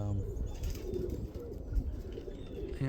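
Roller pigeons coo softly and repeatedly inside a loft, a close, low murmuring flock sound with no voices over it.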